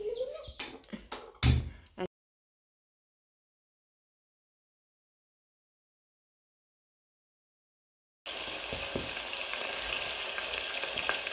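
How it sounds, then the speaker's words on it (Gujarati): Brinjal curry is tempered in hot oil. A few brief clattering knocks come first, then silence, then a loud, steady, close sizzle of frying. "શાક વઘારીએ"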